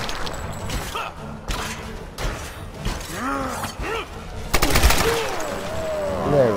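Gunfire in the Tomb Raider video game, with rapid bursts and shots mixed with thuds and creaking game effects, playing under a voice speaking.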